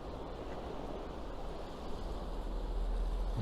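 Surf at a beach at sunrise makes a steady, broad rumble of waves with some wind noise, swelling slightly louder toward the end, with no voices.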